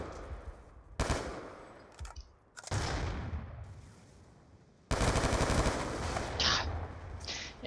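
Rapid automatic weapon fire in Black Ops II, several loud sustained bursts separated by short pauses, close and dominant with no talk over it.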